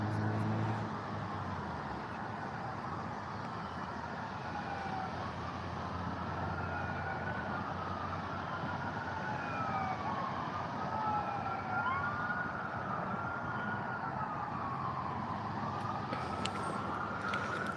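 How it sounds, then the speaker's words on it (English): A distant ambulance siren wails in rising and falling sweeps over steady outdoor background noise in a park in Dalton, Georgia, with no talking nearby. "I hear sirens. It's an ambulance."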